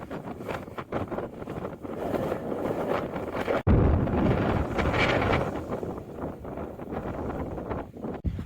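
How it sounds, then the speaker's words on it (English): Strong wind on an exposed stretch of the Pacific Crest Trail near wind turbines, gusting and buffeting the microphone in a continuous loud rumble with one sharp dropout midway. "Very windy on this part."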